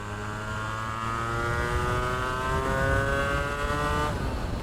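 250cc two-stroke V-twin sportbike engine accelerating hard, a buzzing whine climbing steadily in pitch for about four seconds, close and loud, then dropping off as the throttle eases.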